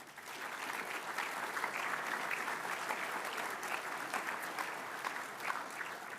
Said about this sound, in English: I think they deserve a big round of applause too.